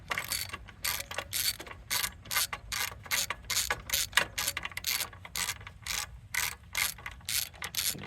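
A ratchet with a 5/8 spark plug socket clicks in quick repeated strokes while backing a spark plug out of a Husqvarna yard tractor that has sat unused for ten years. The clicking is close and crisp with no talking.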